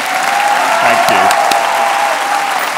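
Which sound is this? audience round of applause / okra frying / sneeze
audience round of applause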